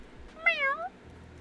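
A single short, clear cat meow in Zenless Zone Zero, rising and falling over about half a second against quiet background.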